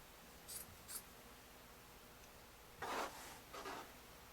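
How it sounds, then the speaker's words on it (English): Scissors trimming the excess black edge of fleece fabric on a no-sew tie blanket, a few short crisp snips, quiet and close with soft rustling between cuts. "take a pair of scissors and trim the excess black that's peeking through here"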